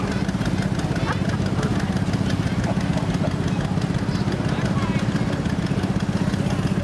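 Steady idling engine of a 1989 John Deere Gator utility vehicle at an antique tractor show parade, a continuous low rhythmic chug running throughout at moderate distance, with faint crowd and voices in the background.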